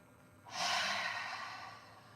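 A single long, soft open-mouthed exhale during a gentle yoga session rises quickly, then fades slowly over about a second and a half in a quiet room.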